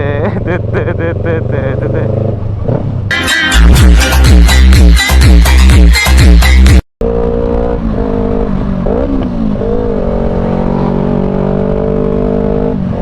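A loud motorcycle exhaust roars and revs in bursts, rising and falling through several throttle blips, with a brief cut-off before a steady running drone resumes.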